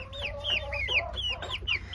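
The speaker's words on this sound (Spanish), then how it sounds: "tengo por acá gallinas de raza francés, las negritas" French-breed hens on a poultry farm clucking continuously in close, overlapping calls, several birds sounding at once over a low steady hum.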